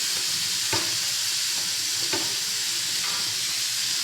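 Green chillies and curd hit a hot frying pan for a chicken pulao, giving a steady broadband sizzle and stir scrape with two brief sharper crackles, close and alone with no talk.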